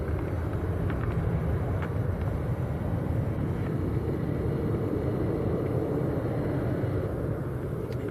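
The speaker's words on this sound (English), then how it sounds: "It is the Air France 386 out of Paris Charles de Gaulle going to Toronto. And that is a Boeing 777." An Air France Boeing 777 airliner at Manchester Airport gives off a steady, broad roar that stays constant throughout, heavy in the low end and heard from a distance without any voices.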